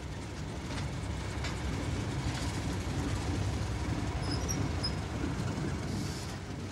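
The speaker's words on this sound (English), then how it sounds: "Here, a Class 31 locomotive hauls a different design of flask through Carnforth." Class 31 diesel locomotive hauling a nuclear waste flask by rail through Carnforth, a steady broad rumble of train and wagons rolling past with faint wheel squeal, continuous and fairly close.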